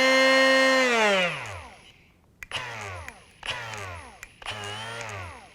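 A Metabo HPT 18V brushless 2-inch die grinder, GP18DAQ4, whines loudly then spins down to a stop. Three short whirring bursts follow as it starts and cuts out again, with no talking.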